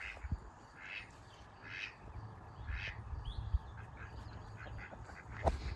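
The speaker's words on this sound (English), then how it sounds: "Look at the ducks." Ducks quacking on a cold farm, a series of nasal quacks repeating at a moderate distance every second or so, over a low outdoor rumble with a few thumps.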